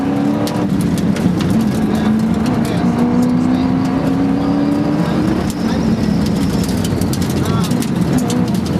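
A Porsche rally car with a 4.2 litre water-cooled V8 on standard suspension powers through a stage of the 2011 Galway International Rally. It gives a loud, close, sustained engine drone whose pitch climbs and dips with a rough, gravelly wash beneath.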